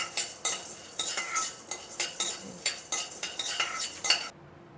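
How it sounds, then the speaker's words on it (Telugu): Chana dal roasting in a kadai, a steady close run of metal spoon scrapes and clinks against the pan in quick irregular strokes, stopping abruptly near the end. "ఇప్పుడు కళాయిలో మనం పచ్చెనపప్పు వేద్దాం. అవి దోరగా వేపుదాం."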